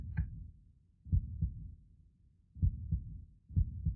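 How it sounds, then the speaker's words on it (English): A stuttering heartbeat sound effect in an audio drama, low thumps landing in uneven pairs and small clusters with gaps between them, close and alone with no talk over it. "there is slowly, audibly, the sound of a stuttering heartbeat"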